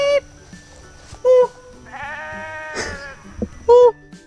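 Several short, loud sheep bleats ring out near the listener on a farm, spaced apart, with a person calling out between them.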